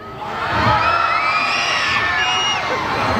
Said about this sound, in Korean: 혹시 방금 소리 지르신 분 한 번 더 질러주실 수 있어요?